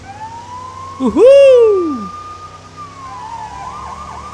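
A police car siren in the video game Lego City Undercover wails up and falls away in one long, loud sweep, followed by a softer wavering tone, with a brief excited voice over the top.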